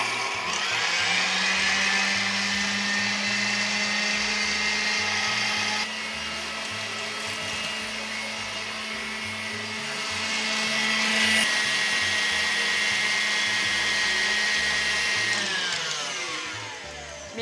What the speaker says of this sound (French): Je vais battre mes blancs en neige.